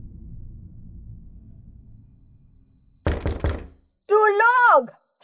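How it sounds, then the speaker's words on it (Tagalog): Several quick knocks on a door, a brief cluster of close raps, followed by a loud synthetic tonal sweep and a steady high whine over low background rumble. "Sinundan niyo ng pagkatok."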